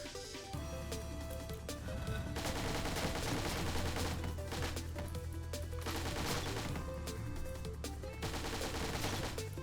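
Uzi firing in the game Dungreed, a dense rapid stream of small shots under steady game music, continuous and moderately loud.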